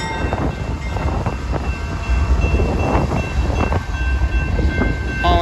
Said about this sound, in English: Hauling a ballast train eastbound out of the yard.